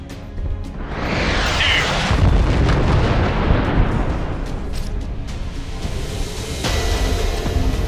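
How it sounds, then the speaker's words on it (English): A huge orbital cannon blast in the Infinite Crisis video game: a loud, booming explosion that swells in the first two seconds and rolls on as a dense, sustained rumble with crackling debris, with a second sharp hit near the end. "The enemy has fired the orbital cannon."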